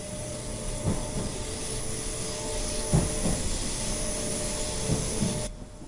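A simulated train pulls out of London Victoria toward Clapham Junction in Train Simulator 2013 on the London to Brighton route, a steady hissing rumble with a few soft clunks of the wagons rolling over the track.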